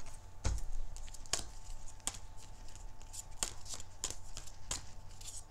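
A deck of oracle or tarot-style cards being shuffled by hand: a series of crisp riffling snaps and flicks at irregular intervals, close and fairly faint over a quiet room hum.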